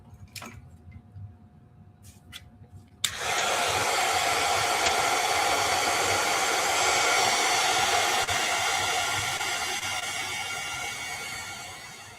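A hair dryer switches on after a few seconds of quiet and blows steadily and loudly at close range, drying a paper sketch, with no talk over it.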